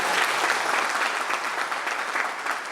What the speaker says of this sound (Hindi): जिसको समझ में आया एक बार जोर से ताली बजाओ।